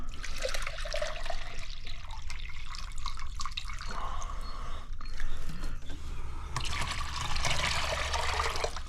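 Water runs and splashes steadily into a tray used for soaking tomato plants, a continuous close trickle that shifts in tone as it fills.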